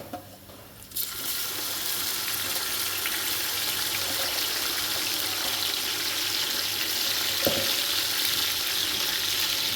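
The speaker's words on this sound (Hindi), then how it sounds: "इसमें हम अदरक, लहसुन और हरी मिर्चों का पेस्ट ऐड करें।" Browned onions fry in a pan after a paste of ginger, garlic and green chili is added while cooking nihari. After a brief quieter start, a loud, steady sizzle runs on close by, with a faint clink partway through.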